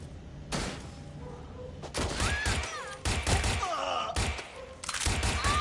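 Turret gunfire in Watch Dogs Legion: sharp bursts of shots that crack in several clusters over a busy game soundscape with whines and ricochet-like tones, fairly close and dense throughout.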